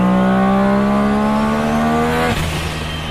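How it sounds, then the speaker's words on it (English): A loud car engine drones steadily, then the revs cut and a sharp hissing whoosh of a turbo blow-off valve follows. "Listen to that blow-off valve"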